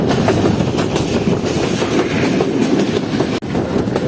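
A Jand passenger train crosses a railway bridge outside Kanjur railway station with a loud, steady rumble and faint rhythmic clatter of wheels over the rails, heard from on board without a break.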